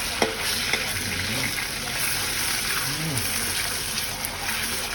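Chinese kale with oyster sauce sizzles and crackles steadily in a hot wok while being stirred, a constant frying hiss with occasional scrapes and faint voices underneath.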